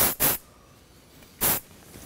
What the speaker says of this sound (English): Just another little bit of spray.